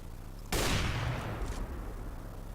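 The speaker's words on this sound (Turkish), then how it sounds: "Silahlar amma ses çıkarıyorlar." A CS:GO gun fires a sudden, loud burst of shots that cuts sharply through a quiet background and then decays over about a second, with faint echoes trailing after.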